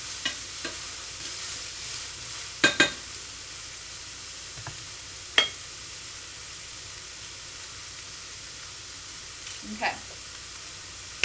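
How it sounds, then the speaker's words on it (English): Garlic and onion sautéing in a pan, a soft, steady sizzle with a few sharp clicks of stirring, quiet and close, with one brief spoken word. "I'm going to saute for a little bit."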